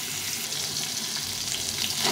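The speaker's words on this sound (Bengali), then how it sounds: "মাছটা ভেজে নেবো এখন।" Fish coated with salt, turmeric and oil frying in a pan: a steady, moderately faint crackling sizzle that holds evenly throughout, with no speech.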